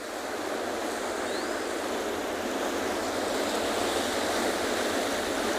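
Ocean surf from a big swell rolling in at Penguin Beach, a steady, loud wash of crashing water and roaring spray that fills the whole stretch with no pause or voices.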